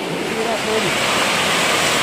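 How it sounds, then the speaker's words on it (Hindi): A waterfall with water flowing below at Dokarichachara in Kalahandi, Odisha, in March makes a loud, steady rushing roar that fills the whole clip, with no break in the wash of sound. "वो भी मार्च के महीना में इस तरह का सुंदर वाटरफॉल"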